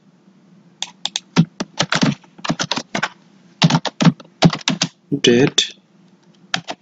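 A date is typed on a computer keyboard in quick irregular bursts of close, crisp key clicks, with someone speaking briefly between the keystrokes.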